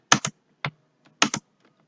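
Typing a comment on a computer keyboard, with a few crisp key clicks in short pairs and singles and pauses between, close and clear with no talk.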